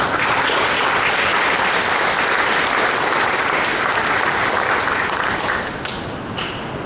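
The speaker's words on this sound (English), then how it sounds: "I think they need a round of applause." A large audience at a junior police academy graduation gives dense, sustained applause for the volunteer cadets, loud and continuous before thinning toward the end.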